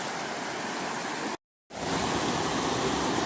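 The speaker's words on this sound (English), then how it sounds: "Here's another rapid we decided to carry around. There's just no good way to run over that shelf." River rapids rushing over a rock shelf on the Upper Red River, a loud, constant broadband roar of churning water, broken once by a brief cut to silence before the rushing resumes.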